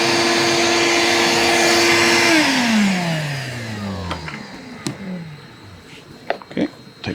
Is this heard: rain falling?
no